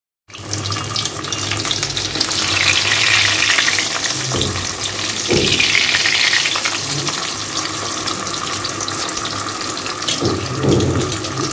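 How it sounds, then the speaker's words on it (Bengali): A large fish fries in hot oil in a home kitchen, giving a loud, steady sizzle that holds for the whole stretch, with a few sharp clatters and spatters breaking through now and then. "এত বড় মাছ ভাজি"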